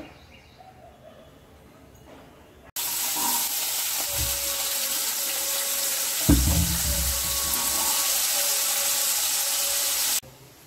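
Paneer frying in white oil in a kadai: a loud, steady sizzle starts abruptly, with a stirring clatter midway, then cuts off sharply.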